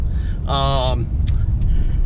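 A 2019 Ram 2500 Laramie 4x4 diesel truck drives along with a steady low rumble of road and engine noise, while a voice speaks briefly over it and a couple of short clicks are heard.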